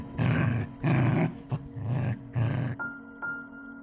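A dog growls and snarls in several deep, rough bursts close by, each lasting about half a second, then fades out as a faint high tone lingers.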